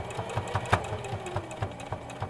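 A sewing machine stitches a fabric mask, its needle thumping out a quick, regular mechanical rhythm close up with no voice over it.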